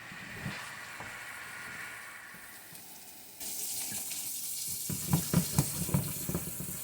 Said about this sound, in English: now I'm going to start adding my water.